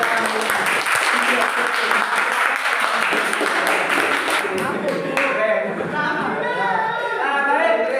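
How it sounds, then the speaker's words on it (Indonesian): A classroom audience of students claps together in a dense burst of applause, which thins out as voices start talking and chattering over the fading claps. "Oke, kita kasih aplaus untuk semua kita."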